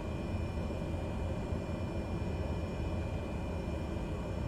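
Cessna Grand Caravan 208B turboprop taxiing in Microsoft Flight Simulator 2020: a steady, even drone of engine and prop noise with a heavy low rumble. It holds at one level throughout, with no talking.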